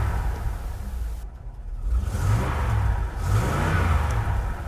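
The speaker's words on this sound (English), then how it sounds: "Ready for the monster truck." A monster truck's engine rumbles and revs in uneven surges, loud and close, with a brief dip partway through.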